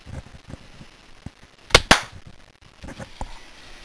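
A K'nex sniper toy gun fires indoors with one sharp, loud snap, followed by a quick second crack, amid faint handling clicks and taps before and after.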